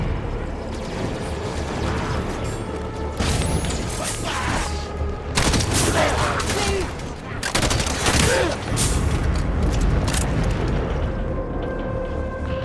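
Weapons fire in a Halo 5: Guardians campaign battle, with dense bursts of shots and booms layered over a constant game soundscape, loud and continuous, while voices talk through the action.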